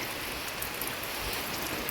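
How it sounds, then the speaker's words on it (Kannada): Light rain falls steadily in a soft, even hiss of drops with no other clear sounds and no voices. "ಇವಾಗ ಬರ್ತಿದೆ ಸೊ ಸುಮಾರಾಗಿ ಸುಮಾರಾಗಿ ಬರ್ತಿದೆ ಮಳೆ"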